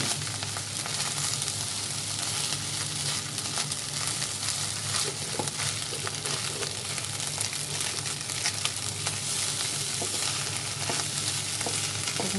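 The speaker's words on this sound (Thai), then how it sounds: "อันนี้คือกระทะที่เราใช้เป็นกระทะเทฟลอนนะคะ ทุกคน มันก็จะง่ายอะ คนคนคนขึ้นมา คนขึ้นมาเรื่อยๆมันจะไหม้" Seafood fried rice stirred in a Teflon pan, giving a steady close sizzle with continuous scraping and tossing through the whole stretch, no voices.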